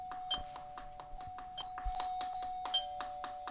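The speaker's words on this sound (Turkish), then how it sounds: "Kim basıyor zili?" A doorbell in the Roblox game Brookhaven rings over and over, bright electronic ding tones repeating quickly and steadily throughout, clear and close with no voices.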